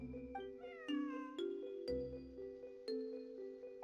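A cat in the Genshin Impact video game gives several short meows over soft, tonal game music, close and clear with no voices.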